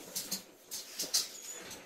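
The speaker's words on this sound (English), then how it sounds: "I'm gonna let the dogs out because they're barking at magpies" Dogs barking at magpies outside a home, a few quiet, distant-sounding barks or yelps spread irregularly over two seconds against soft background noise, with no talking.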